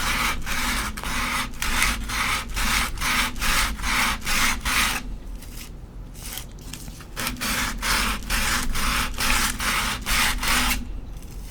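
Epoxy coasters with ceramic being sanded by hand in steady, close back-and-forth strokes, a rhythmic rasping that pauses briefly midway before resuming.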